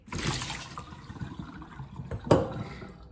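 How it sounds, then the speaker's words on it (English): Boiling pasta water is poured and splashes into a colander, with a rushing, gurgling flow and a sharp clatter near the end. "This pasta has just been cooked, that's boiling water. I'm going to put that in here."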